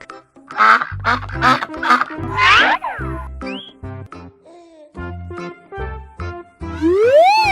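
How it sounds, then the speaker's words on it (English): Duck quacking in a series of loud, close, nasal calls, several in quick rhythmic bursts with pauses between them and playful boing-like cartoon effects mixed in. "Duck."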